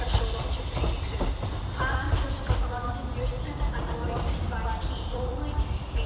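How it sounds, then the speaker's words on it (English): ScotRail Class 385 electric unit 385030 pulls out of Glasgow Central on the far platform on the service to Edinburgh Waverley via Shotts. It gives a steady rumble with wheel clatter and squeals under the station's echoing ambience, and voices can be heard. "departing on the far side is 385030 with the 1419 ScotRail service to Edinburgh Waverley via Shotts"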